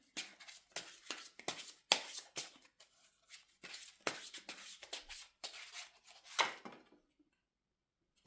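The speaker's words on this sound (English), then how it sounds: "Let's shuffle the cards." Tarot cards are shuffled close by in a quiet room, with soft, irregular bursts of riffling and sliding that come in short groups and then stop, leaving near silence at the end.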